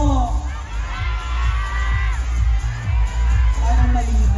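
A large crowd at the Manila Metro Film Festival 2024 shouts and cheers for the cast of And the Breadwinner Is, a loud, steady roar of voices and whoops with a deep rumble underneath.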